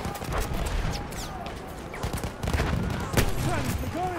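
Gunfire in the video game Battlefield 1, with irregular rifle shots and bursts crackling over a busy battlefield rumble, some shots close and sharp, others further off, with a few whizzing ricochet-like tones.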